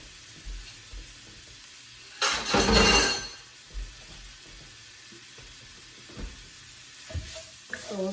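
Ground pork sausage hits a hot pan with a loud burst of sizzling that swells and fades, followed by quieter frying and a few scrapes and clinks of stirring in a kitchen.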